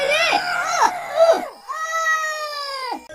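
A man dragged into a cellar by a witch screams in a voice-acted horror story, with several strained wailing cries followed by one long sustained shriek that breaks off at the end.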